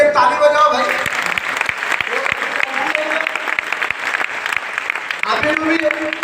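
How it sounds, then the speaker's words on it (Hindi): A meeting crowd claps in scattered, uneven bursts, fairly loud and close, with voices talking over the applause throughout. "इसके लिए ताली बजाओ भाई"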